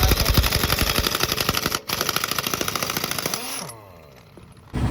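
Pneumatic impact wrench loosening the wheel bolts of a six-wheel Canter truck, a loud rapid hammering rattle that runs almost the whole clip, breaks off briefly, then drops to a softer whirring wind-down before resuming.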